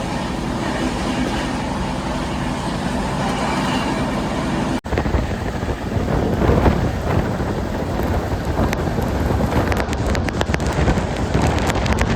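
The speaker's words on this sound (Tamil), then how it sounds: "மழை பெய்யுது பாருங்க" Rain falling at a railway station beside a stopped Humsafar Special train, a loud continuous rushing hiss that breaks off abruptly, then resumes with rumbling, thunder-like low tones.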